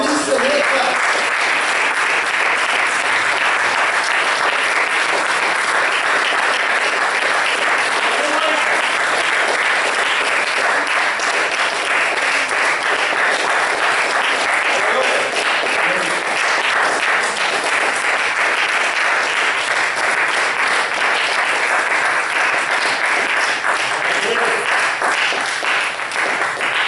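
A church congregation claps long and loudly in praise, a continuous wash of many hands that holds steady for nearly half a minute, with faint voices mixed into the crowd noise.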